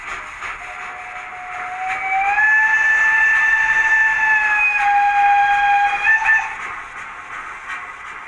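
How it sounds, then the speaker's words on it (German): A PIKO TT-scale model of a BR 55 steam locomotive gives one long steam whistle from its sound decoder. The steady, bright, multi-tone whistle holds for about four seconds over a faint hiss, then cuts off. "F4, Dampfpfeife,"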